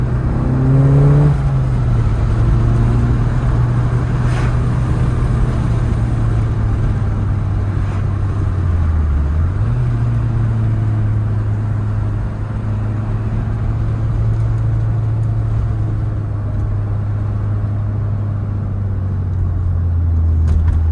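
An Audi S1 rally car engine revs and accelerates, a loud close growl rising and falling in pitch with a dip midway, then holding a steady drone for the rest, with no talk.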